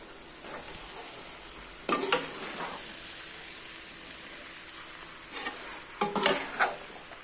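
Bitter gourd and chana dal cooking in a pan with white vinegar added, soft sizzling under a few brief stirring scrapes of a utensil against the pan, quiet and close, with no talking.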